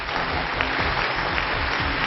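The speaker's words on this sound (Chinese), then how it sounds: "掌声请出他们，掌声有请" Studio audience applause on a Chinese television relationship-mediation show, a dense steady wash of many hands clapping at close range with no pauses, no talk over it.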